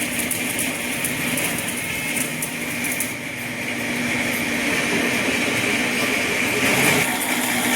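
A tractor-drawn seed drill with five tines runs across a field during sowing, producing a steady, fairly loud mechanical rumble and whine with rattling throughout.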